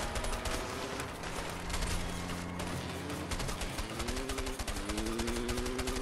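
Rapid gunfire in the video game A Way Out, with dense bursts of shots running continuously over engine and music layers during a vehicle chase, fairly quiet overall.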